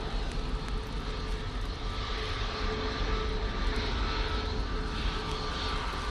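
A departing airliner bound for Pisa roars steadily at Manchester Airport on a windy day, a broad, loud, sustained engine rumble with no break across the few seconds.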